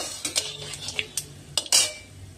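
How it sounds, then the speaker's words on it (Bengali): A dry red chili, bay leaf and fennel seed tempering is stirred in hot oil for dum aloo, with light metallic spoon taps and scrapes against the pan over a faint low sizzle. "ফোড়নটা 1 সেকেন্ডের মতো একটু নাড়াচাড়া করে"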